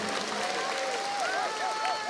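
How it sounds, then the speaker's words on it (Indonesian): A crowd at an outdoor political rally in Kuningan claps and cheers in a continuous wash of sound, with a tonal whistle sweeping over the noise. "Tepuk tangan buat semua yang hadir di sini."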